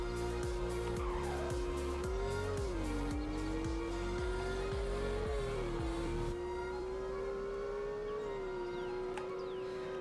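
Porsche Cayman GT4 accelerating hard from a standstill to 100, its engine climbing steadily in pitch through several gear changes, loud and continuous from inside the car, with no talk over it.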